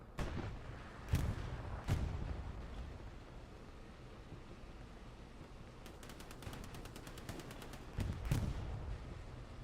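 Gunfire in the World War II shooter Hell Let Loose: scattered heavy distant shots and booms, then a rapid machine gun burst of about a dozen rounds, over a low battlefield rumble.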